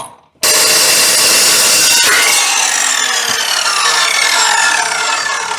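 A power saw cuts a 3.5-inch hole in metal for a homemade exhaust, starting abruptly with a loud, steady high-pitched grinding whine that runs to the end.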